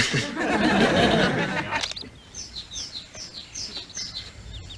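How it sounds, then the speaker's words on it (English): A burst of noisy chatter fades out, then a series of high, quick bird chirps repeats steadily in a quiet outdoor setting. "Birds in a tree."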